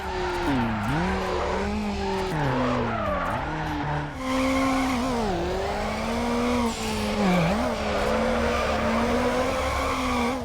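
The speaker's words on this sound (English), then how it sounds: "Cars all have very distinct engine sounds that change when being upgraded." Racing car engines in Need for Speed Underground whine and rev continuously, pitch rising and dropping with gear changes, loud and close, with tires squealing at times.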